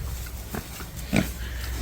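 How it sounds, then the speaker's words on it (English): Farm pigs grunting and oinking while being scratched, with a few short close snorts and sniffs over a low steady background. "A lot of pigs actually don't seem to like getting scratched, but these ones don't mind."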